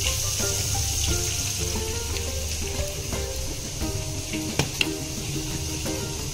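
Butter sizzling in a pan as butter chicken is cooked, a steady close crackling hiss with occasional small clinks, no talk.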